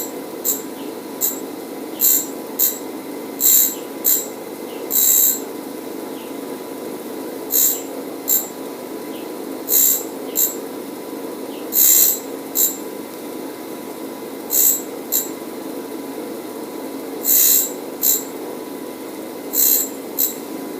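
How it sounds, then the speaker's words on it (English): A bench grinder shapes a six to seven degree top rake on a lathe cutting tool in short, repeated bursts of bright grinding, each a second or so long, separated by pauses over a steady motor hum. "we're just going to grind a bit of a top rake on it, so about a 6 or 7 degree top rake"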